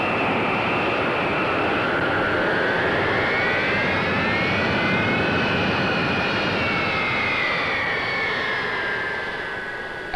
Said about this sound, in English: As impressive a sight on the ground as in the air, the Intercontinental, over half as long as a football field, moves to its takeoff position